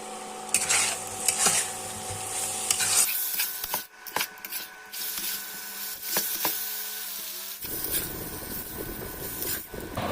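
A spatula scrapes and stirs spice masala frying in a pan for a Bengali fish roe fritter curry, a rough rubbing sound that comes in uneven bursts over a steady tonal background.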